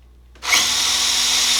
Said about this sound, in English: So I just take a standard drill and I drill 2 holes